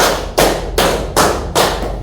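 Four loud, evenly spaced hand claps in a classroom clapping game, each a sharp burst about every 0.4 seconds with a short decay between, close and alone with no voices.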